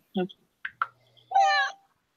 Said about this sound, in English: The cats are always needy.